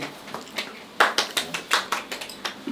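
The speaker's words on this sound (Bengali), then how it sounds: "হাততালি হাততালি জোরে জোরে" Hands clap at a birthday gathering, a dozen or so quick, sharp claps in a lively rhythm, close and fairly loud, with faint chatter around them.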